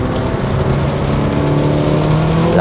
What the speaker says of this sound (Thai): นี่กดคันเร่งแบบคลิกดาวน์นะ ขึ้นมาถึง100แล้ว